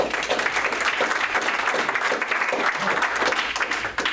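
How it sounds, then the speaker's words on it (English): Warm audience applause for a county chairman at a Collin County political meeting, dense steady clapping throughout, fairly close and even, with no voices standing out. "Let's have a warm round of applause for our county chairman"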